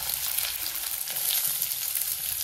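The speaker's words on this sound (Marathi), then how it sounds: "आता कांदो टाकते फोडणी." Onion drops into hot oil in an iron pan for tempering and fries with a dense, even, close crackling sizzle that holds steady throughout, with no voices.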